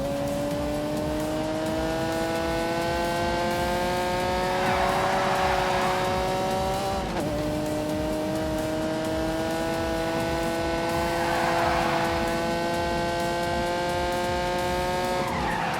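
A car engine at full throttle, a loud, sustained high-pitched howl rising steadily through two long gears with a shift between them, close and continuous with no speech.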